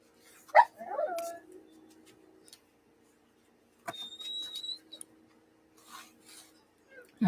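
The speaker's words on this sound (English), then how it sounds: "Excuse the dogs in the background." Dogs barking and whimpering in the background of a quiet room, with a few short yips and whines spread through the stretch alongside scattered rubbing noises.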